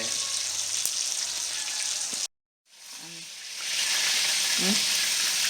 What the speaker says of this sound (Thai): ทอดหมูน้ำปลาหมูสามสันน้ำปลา